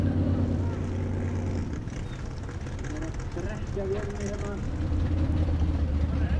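An off-road car's engine keeps running as it sinks in a river during an off-road competition at Kollafjörður, a low droning hum under wind and water noise, with people talking over it.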